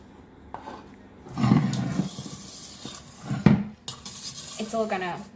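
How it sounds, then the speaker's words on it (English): Wooden spoon stirring cake batter in a bowl, with a few dull knocks and scrapes against the bowl sides, close and moderately loud, plus some clinking of dishes. "We're just going to use a wooden spoon."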